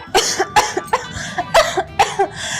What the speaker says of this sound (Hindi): मुझे खांसी हो रही है।